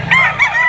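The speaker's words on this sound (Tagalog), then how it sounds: "Marami pa tayong manok." Chickens and roosters at a poultry market in Lipa, Batangas: a single close, loud crow-like call with clucking tones, clear and alone for under a second.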